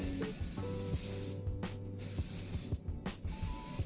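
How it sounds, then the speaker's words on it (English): Two short hissing bursts of hairspray, close and loud, set against a steady tonal background. "remember to spray your hair too"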